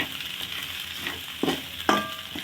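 Ivy gourd greens sautéing in a pan, giving a soft steady sizzle broken by a few short stirring scrapes, with no voices.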